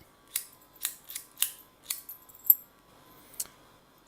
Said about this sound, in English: very nice action, very smooth when you throw it and withdraw the bolt